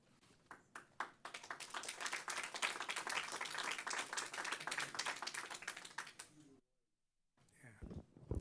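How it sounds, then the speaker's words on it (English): Audience applause at a Fresno County Board of Supervisors meeting, a dense burst of many hands clapping for about six seconds before cutting off, followed by brief noises and faint talk. "Please hold your applause."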